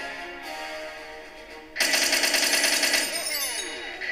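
A sudden burst of rapid, rattling tank gunfire in the Tank Stars 2 video game kicks in partway through and continues loudly for a couple of seconds over a synthetic electronic tone.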